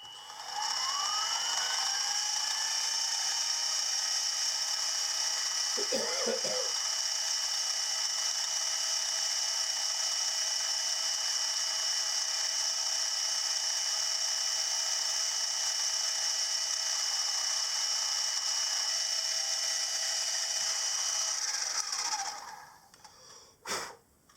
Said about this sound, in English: I'm drilling down carefully until I see swarf coming out of the port on the port face